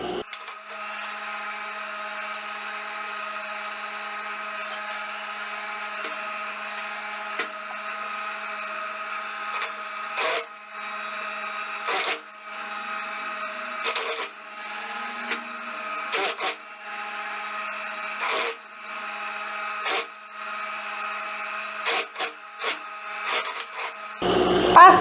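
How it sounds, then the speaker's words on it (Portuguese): A sewing machine stitches a seam joining two parts of a long lined wrap dress, a steady close mechanical whir running throughout with a few louder bursts and pauses, no talking. "agora eu vou passar a costura juntando as duas partes"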